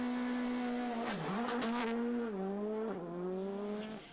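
Niels Reinvoet's Skoda Fabia rally car on a special stage of a Belgian rally championship round, engine loud and close with a strong pitch climbing and dipping through gear changes and acceleration, plus a brief tyre squeal midway.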